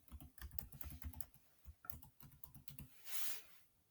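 Login details typed on a computer keyboard come through as quick, close bursts of key clicks with short pauses between them, ending in a soft brushing rustle.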